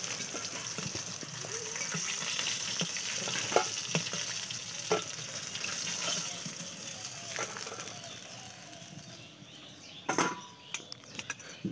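Fish pieces frying in hot oil make a steady close sizzle with scattered pops and light utensil taps, easing off before a burst of clattering near the end.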